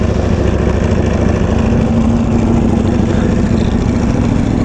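A Ducati Panigale V4R motorcycle engine runs steadily up close, a loud continuous idle-like drone with no gaps or revving, and no voices over it.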